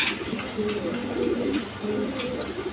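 Red pigeons coo in low, soft, repeated rolling calls, close by and moderately quiet, with faint background noise and a little talk underneath.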